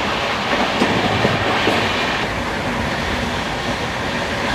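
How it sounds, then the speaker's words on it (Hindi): The Poorva Express passenger train pulls out of Chittaranjan station in the Asansol railway division, India, with a loud, close, steady rumble and rhythmic clickety-clack of wheels over rail joints, and no voices. "हमारी पूर्वा एक्सप्रेस निकल चुकी है चितरंजन से।"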